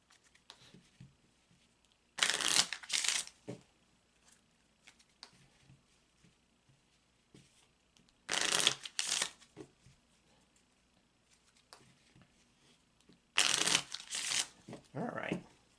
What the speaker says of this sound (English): now we're going to shuffle the cards one more time